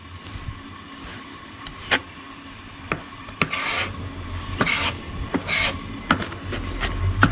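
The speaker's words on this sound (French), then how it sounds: "Hacher l'ail menu." Knife chopping and mincing garlic finely on a cutting board, with scattered sharp taps and rasping scrapes at an irregular pace, close by and moderately loud, without talk.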